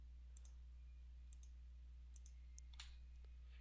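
Mouse clicks while selecting objects in SketchUp come as a few faint, sharp ticks spaced irregularly over a low steady hum.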